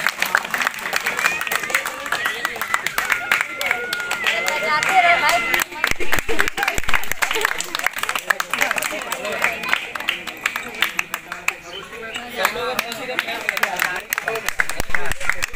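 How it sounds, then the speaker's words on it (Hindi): A crowd claps loudly and continuously, dense rapid hand claps mixed with babbling voices and talk nearby. "तालियां बजा करके जोरदार स्वागत करिए"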